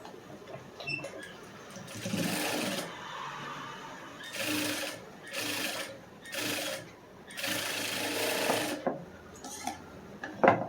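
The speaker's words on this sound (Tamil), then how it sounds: "நம்ம படிமான தையல் போட்டாச்சு." A sewing machine stitches a lined blouse in several bursts of fast whirring, each a second or two long with short pauses between, close and fairly loud with no talking.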